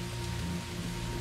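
Steady rain falls at night, a dense, even hiss that fills the brief moment with a faint low hum beneath and no voices.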